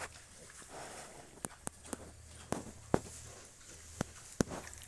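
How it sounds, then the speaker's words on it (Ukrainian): Young piglets, about a week and a half old, shuffle about and make faint grunts, with sharp clicks and taps scattered through a quiet stretch. "Ось такі наші поросятка"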